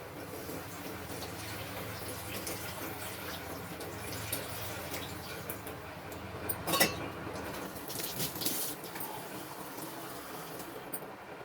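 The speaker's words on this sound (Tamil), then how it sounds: "இப்போ புளி தண்ணியை ஆட் பண்ணிப்போம்." Tamarind water is poured into a pan of bat fish curry, a steady splashing, trickling stream of liquid that runs throughout with a few brighter splashes midway.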